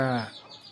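A single short cluck from an Aseel fighting rooster, close and clear, fading quickly into quiet.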